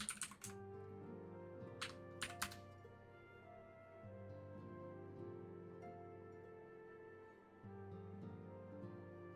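Clicky keyboard keys typed in a few short quick bursts near the start, close and crisp, over a steady background hum from a Final Fantasy XIV game session.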